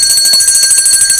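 A loud, rapidly ringing bell with a bright metallic, shrill tone, steady and continuous and close at hand, with no voices over it.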